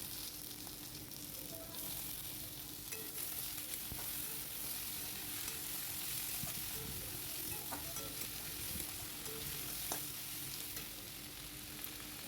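Eggplant and tomato fry in a pan with a constant soft sizzle and crackle, broken by occasional light stirring clicks, heard close and alone.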